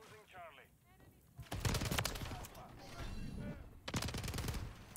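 Bursts of STG-44 rifle fire in Modern Warfare 3, two loud rapid automatic volleys with sharp repeated cracks, separated by quieter game sounds.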